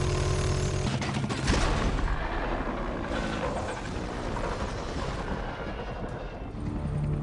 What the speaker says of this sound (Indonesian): memilih untuk menembaki Wei secara membabi buta, yang akhirnya membuat helikopter Wei tertembak dan jatuh ke pegunungan